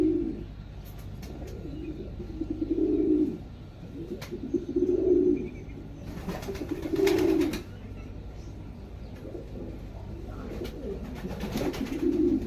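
Male pigeon cooing to attract females, several repeated low throaty coos at moderate distance with short pauses between calls, other birds chirping faintly in the background.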